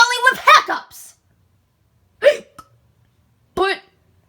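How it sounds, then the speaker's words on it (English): Three sharp voiced hiccups from a cartoon character, the first in a quick double burst, then two spaced single hics with silence between. "I'm stuck here dealing with hiccups."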